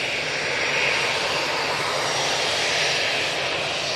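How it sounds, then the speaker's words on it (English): A Jet2 Airbus A321ceo jet departing Manchester Airport gives off a steady, fairly distant engine roar with a hissing high edge, unbroken for a few seconds. "next out will be a Jet2 A321 CEO"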